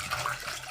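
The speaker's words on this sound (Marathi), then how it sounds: "अंडे बुडेपर्यंत पाणी ओतायचं" Water is poured from close by into a pot holding eggs, a steady splashing gush that lasts under a second.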